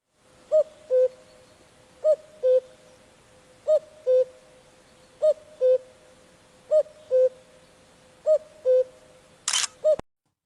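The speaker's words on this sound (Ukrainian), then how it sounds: "Всіх збудив той голосок. Пісенька зозулі." A cuckoo calls its two-note song in a steady repeating rhythm, seven clear pairs spaced evenly and heard fairly near against quiet surroundings, ending with a brief sharp click.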